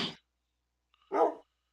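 A dog gives two short barks separated by a brief silence, close to the microphone and fairly soft, with no talk over them.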